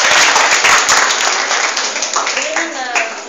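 An audience at an award ceremony applauding a student honored for sporting success, loud, dense clapping that fades slightly toward the end as a voice begins.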